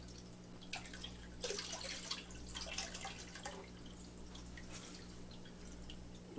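Water runs into a fish tank being refilled after a water change, a faint, steady trickle with soft splashing and dripping and no voices.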